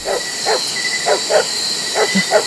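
A dog barks repeatedly outdoors near a stream at night, short yelping barks coming in a steady series at moderate distance over a constant high insect-like hiss.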